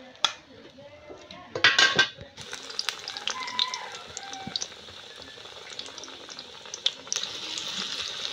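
Two tomatoes fry in a pan for a Bangladeshi village-style potato and pointed gourd chop, giving a steady sizzle with a few clinks of utensils and stirring near the start.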